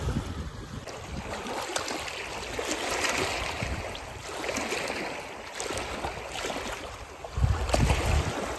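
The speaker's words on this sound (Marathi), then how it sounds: "फक्त तुम्हाला पाण्याचा आवाज येईल." Steady wash and lapping of a wide, calm stretch of water at sunset beside dense forest, continuous and fairly close, with a heavier low surge near the end and no voices.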